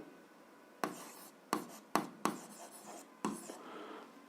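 A pen writes an algebra exercise by hand in a quiet room, with five or six short scratchy strokes separated by pauses, close and faint.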